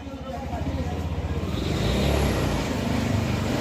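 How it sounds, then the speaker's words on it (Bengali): A car engine running and revving with a pulsing, throbbing rumble that swells louder midway, close by, while a voice talks over it. "হ্যাঁ স্টার্ট দেন, ব্যাক গিয়ার ফেলান, এখন ব্যাক গিয়ার ফেলান"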